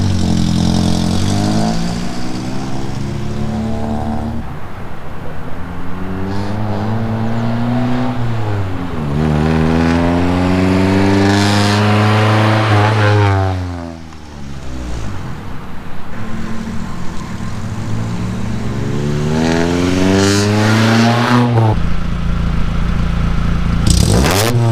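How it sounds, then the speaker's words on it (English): A Honda Civic EF with a DIY stainless steel V-band exhaust drives past in a parking lot, its engine revving up and down through several gear pulls in a loud, raspy, sustained roar that swells and fades, with no talking. "So I'm gonna do a few drive-by clips in this parking lot here."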